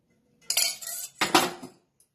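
A cooking pot being set down and metal spoons clinking while preparing sweet potato kheer with ghee, two short clattering bursts of utensil sounds close by with no talk.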